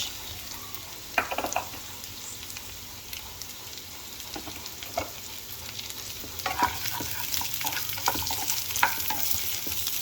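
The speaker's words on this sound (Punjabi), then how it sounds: "ਪਿਆਜ਼ ਨੂੰ ਬਹੁਤ ਜ਼ਿਆਦਾ ਭੁੰਨਣ ਦੀ ਲੋੜ ਨਹੀਂ" Onions fry in a pan with a continuous crackling sizzle, punctuated by sharper stirring scrapes and clicks that grow busier toward the end, with no voices.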